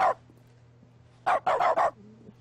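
A dog in the video game The Stanley Parable barks once, then after a pause gives four quick barks in a row, close and clear over a faint electrical hum.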